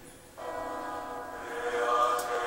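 Church bells from the Hunchback of Notre Dame music, a sustained ringing tone that swells and thickens with layered bell harmonics, moderately loud and without talk.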